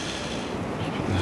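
Waves surge and wash over wet sand on a cold, windy beach, a broad rushing roar close by with wind buffeting the microphone and a low rumble swelling near the end.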